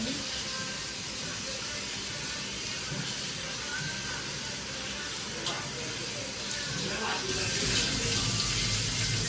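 Tap water runs in a steady hiss and splash while a goat's head and feet are washed in a home kitchen, continuous and close, with faint talk in the background.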